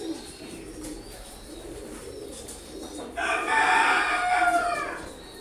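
Pigeons bathing, with steady soft splashing and fluttering and a louder burst of wing-beating in water midway, along with faint cooing nearby.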